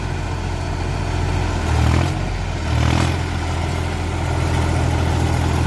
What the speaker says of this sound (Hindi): सात फुटा रोटावेटर शुरू कर दिया अब चल लगा देखो